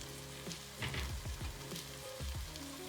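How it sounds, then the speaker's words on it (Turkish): Dried beans tipped into a hot stew pot for a mushroom and clotted-cream bean dish set off a soft, close sizzle and frying hiss, with a few scraping stirs and clinks, and no talking. "Kuru fasulyemizi de ekliyoruz."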